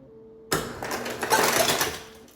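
A burst of rattling, clattering noise starts abruptly and runs for about two seconds, loud and close, like ice cubes tumbling out of a dispenser.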